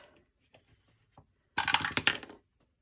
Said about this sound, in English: Let's roll our dice.